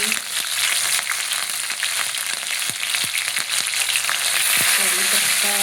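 Panch phoran spices, garlic and chilies frying in hot oil give a loud, steady crackling sizzle that runs without a break, with sharper pops and spits scattered throughout and no voices.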